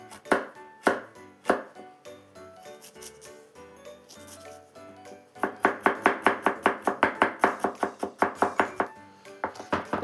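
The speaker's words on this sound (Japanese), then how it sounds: "同じく生姜もみじん切りと" A knife minces ginger on a cutting board in close, sharp chopping taps. The early strokes are sparse, then a fast, even, rhythmic run of chops follows.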